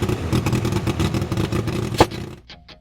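A car engine revs up toward 3,000 rpm as the fuel knob is adjusted, giving a steady low, throbbing drone with a sharp clack near the end before the sound drops away to quiet.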